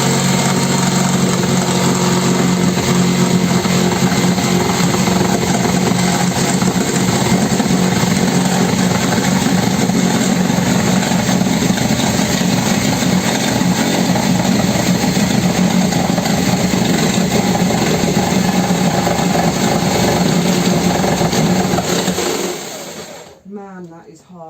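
A power tool grinds steadily through thick fiberglass while fitting a window, a loud continuous whine and buzz running nearly the whole time before cutting off abruptly near the end.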